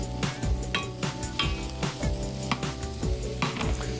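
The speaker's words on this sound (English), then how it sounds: "So I want to gently toss my shiitake mushrooms so that they start to saute and brown a little bit." Shiitake mushrooms sautéing in hot oil in a pan while being tossed, a steady close sizzle broken by repeated scraping and clinking strokes of a utensil against the pan, with no talking.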